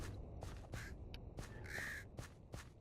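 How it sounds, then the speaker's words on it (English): Crows cawing in a Minecraft recreation of Tomb Raider 3's Thames Wharf level, with several harsh, rasping caws repeating in an irregular rhythm over steady background ambience. "I've got my crows there, crow noises"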